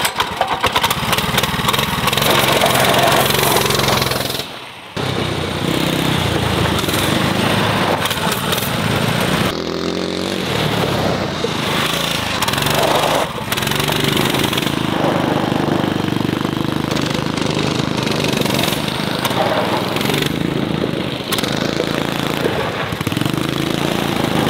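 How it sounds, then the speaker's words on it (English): A loud old motorcycle engine runs continuously, rough and sputtering, with a brief drop in power partway through before it roars steadily again. "Great job cleaning up the motorcycle, getting it working"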